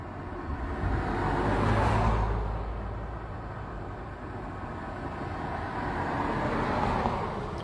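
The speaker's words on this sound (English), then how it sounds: "you get a lot of cars going by because they have all the construction down below" Cars go by on a road near a construction zone in Duluth, Minnesota, a steady broad roadway rumble that swells and eases as vehicles pass at a moderate distance, with no voices.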